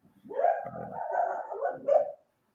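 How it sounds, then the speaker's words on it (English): A dog barks in a short run of close, loud woofs ending in a higher yip, standing alone against silence. "My dog heard your dog, Cody."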